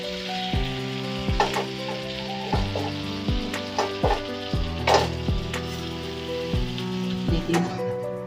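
Slices of brinjal (aubergine) sizzle steadily in a pan, broken by repeated sharp clanks and scrapes of a utensil against the metal as the pieces are checked and turned.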